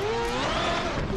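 Interior sound of a four-rotor Toyota A90 Supra in the Assetto Corsa racing game, a droning rotary engine note with harmonics rising in pitch, steady and moderately loud, no talk.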